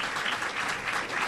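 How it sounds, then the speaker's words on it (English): A crowd of troops at an event in Hawaii gives a dense, steady round of applause for Admiral Harry Harris, a continuous roar of many hands clapping close and loud with no talk. "How about a big round of applause for Admiral Harry Harris, everybody?"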